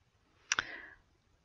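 A single quick double mouse click, close and crisp, against near silence.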